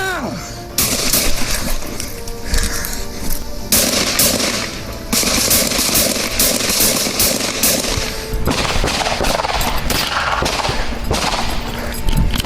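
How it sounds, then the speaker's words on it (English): Sustained rapid gunfire in a police confrontation with an armed suspect, loud and close, volleys of shots running almost continuously with brief gaps, with faint shouting mixed in. "Shots fired still."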